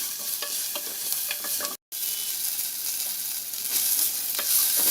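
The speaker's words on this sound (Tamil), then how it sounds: "நம்ம ஆல்ரெடி தட்டி வச்சுருக்கோம் இல்லையா பூண்டு, அதையும் சேர்த்து ஒரு வதக்கிடலாம்." Crushed garlic, dried chillies and mustard seeds fry in a pan with a steady, crackling sizzle and occasional stirring scrapes, cut by one brief dropout near the middle; no one speaks.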